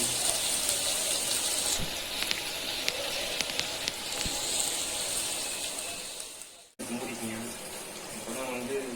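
Masala-coated fish fries in a pan with a loud, steady, close sizzle and crackle. A brief cut near the end is followed by more frying.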